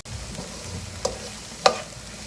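Lamb mince masala with chopped coriander stirred in a pan, a low background sizzle broken by two brief spoon scrapes against the pan.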